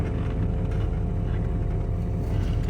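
A third-generation Camaro runs at idle after a three-core radiator install, producing a continuous low, even engine rumble close by with no talking over it.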